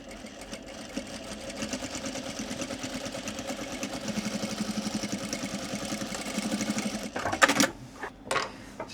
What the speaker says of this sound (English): let's quickly hem the top of the pocket